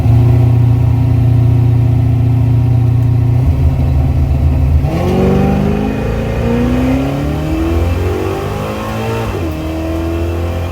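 A car's engine is pushed to full throttle on a race track, droning loudly and steadily before rising pitch sweeps through successive gear changes, with no voices.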